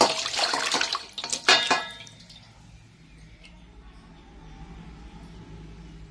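Fruit is washed under running water for a home puja, a splashing, dripping burst near at hand for about two seconds that then fades to quiet.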